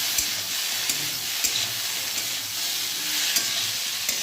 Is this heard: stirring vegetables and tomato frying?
yes